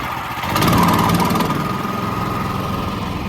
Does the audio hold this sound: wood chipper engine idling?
yes